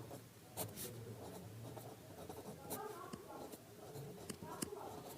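A pen scratches a heading onto an exam answer sheet in short, quick strokes with small taps between them. Someone speaks over the soft writing throughout.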